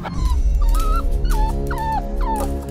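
A dog in the Roblox Brookhaven game lets out a series of high, wavering whimpers and yips, four or five pitched cries in quick succession over a loud, steady background drone.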